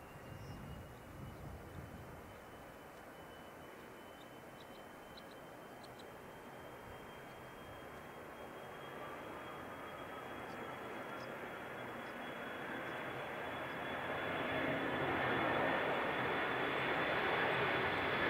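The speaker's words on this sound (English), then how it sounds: "So is Parcel Express going to take off on that runway, is he?" A Parcel Express cargo plane takes off from runway 29 at Canterbury Aero Club in strong winds, its engine roar rising steadily from a distant drone to a loud sustained rush, heard alone without talk.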